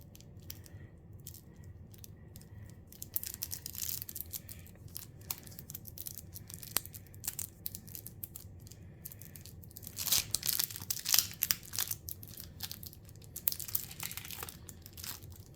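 Plastic wrap being torn off a Magic: The Gathering Modern Horizons 3 commander deck box, close crinkling and tearing that comes in bursts and grows louder toward the middle, with no talking.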